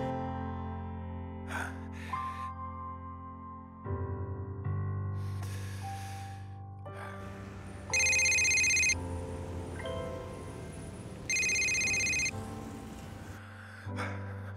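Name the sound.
telephone ringing, in a film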